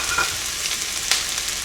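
Chicken, shrimp and baby bok choy sizzle steadily in a hot stir fry pan, a continuous close hiss of frying with a few brief stirring clicks and no talk.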